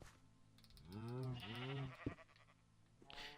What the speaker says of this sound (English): I do not know why there's cows and sheep spawning in it.